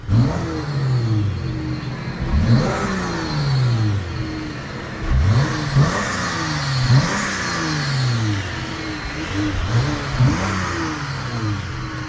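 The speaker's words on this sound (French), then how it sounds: "il se reconnaît particulièrement le bruit de V6 là, surtout au niveau de l'échappement" A V6 car engine revs hard several times in a row, each blip rising sharply and falling back, with a throaty exhaust rumble between bursts.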